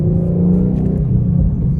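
A Ford Mustang Boss 302 V8 gives off a deep, steady exhaust rumble close by, a short continuous burble with no speech.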